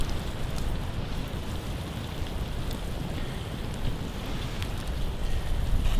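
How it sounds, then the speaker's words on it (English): Food sizzles and crackles in bacon grease over a campfire on a mid-November overnight trip, a steady dense fizz with scattered pops, heard close and alone. "I'm just frying these in the bacon grease"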